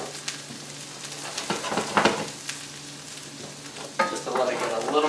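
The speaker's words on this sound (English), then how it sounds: "we're going to saute a little bit of chopped garlic and chive" Chopped garlic and chives sauté briskly in a pan, a crackling sizzle with scrapes and clatters of stirring that grows busier near the end.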